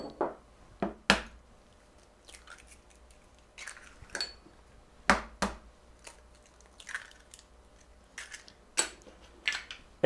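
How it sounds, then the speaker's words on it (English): Two eggs are cracked into a pot of brownie batter with salt and vanilla, giving a series of sharp, close taps and clicks spaced irregularly, with quiet gaps between. "crack the 2 eggs into here"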